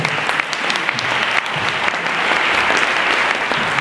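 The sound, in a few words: audience applauding a speaker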